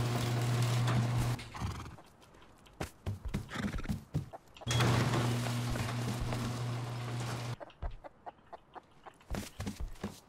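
Horses in the survival game Rust neigh and whinny with clip-clop hoof steps, mixed with clucking chickens and rooster calls, loud bursts broken by quieter gaps over about ten seconds.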